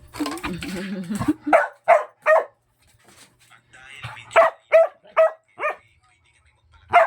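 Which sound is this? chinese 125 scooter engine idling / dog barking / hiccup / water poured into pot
dog barking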